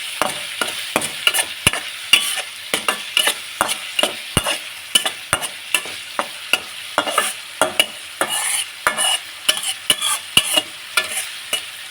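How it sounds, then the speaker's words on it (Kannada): Coriander leaves stirred into paddu batter in a pan: brisk, rhythmic spoon scrapes and sharp clicks against the pan, loud and close, continuing steadily with no speech. "ಫೈನಲ್ ಆಗಿ ನಾನು ಕೊತ್ತಂಬರಿ ಸೊಪ್ಪನ್ನ ಇದಕ್ಕೆ ಸೇರಿಸಿ ಇದನ್ನು ಕೂಡ ಮಿಕ್ಸ್ ಮಾಡ್ತಾಯಿದ್ದೀನಿ"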